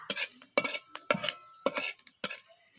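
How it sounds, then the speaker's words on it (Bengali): Panch phoron and two dried red chillies are tempered in hot oil in a pan; a utensil clinks and scrapes against the pan in repeated bursts, with light crackling between strokes, close and fairly loud. "তো ফোড়নটা একটু ভাজা ভাজা করে নিচ্ছি।"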